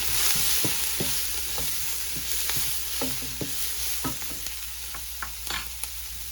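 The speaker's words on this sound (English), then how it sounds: "I'm just using a spoon to scrape it" A metal spoon scrapes the skin off fresh turmeric and ginger root, a knob about 1.5 inches long, in short repeated strokes over a steady background hiss.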